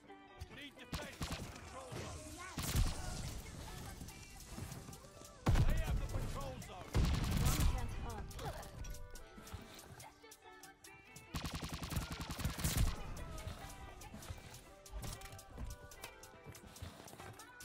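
MP40 submachine gun fire in Call of Duty: Vanguard, repeated bursts of rapid shots with game sounds and voice chatter running throughout.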